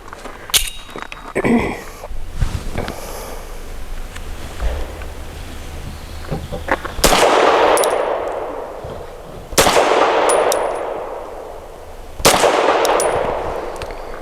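Three loud, sharp gunshots from a Tisas Bantam 9mm pistol firing 100-grain Hornady Critical Defense Lite rounds at an outdoor range, spaced a few seconds apart, each with a ringing decay. Quieter handling clicks come before them.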